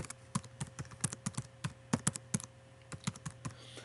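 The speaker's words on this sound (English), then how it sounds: "I'll type in my email address." Email address being typed on a computer keyboard: a quick, irregular run of close, crisp key taps in short bursts with brief pauses, fairly quiet and with no talking.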